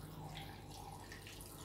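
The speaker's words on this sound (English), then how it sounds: "I am going to pour enough water just to cover" Water is poured into a blender over star fruit and carrots, a faint steady trickling stream with light splashing, with no talking.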